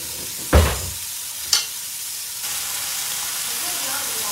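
Chicken steak frying in a pan on high flame, a steady loud sizzle with two sharp spitting bursts early on, hissing continuously throughout.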